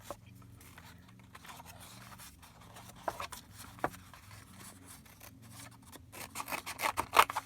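Scissors snip quietly around finger-painted paper flowers. Soft, irregular cuts and paper rustles sit over a low background hum and grow busier toward the end.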